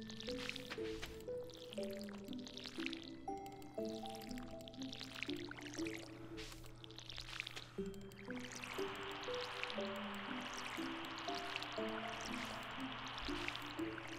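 Crops being watered with a watering can in the Stardew Valley farming game, soft splashing pours repeating steadily over background chiptune-style music, with a brighter sustained watery wash in the latter half.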